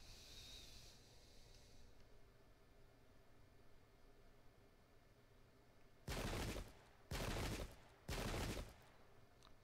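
Three loud, sustained volleys of musket gunfire from the Pike and Shot war game, each a broadband crackle lasting under a second, arriving in close succession after a stretch of quiet background hiss.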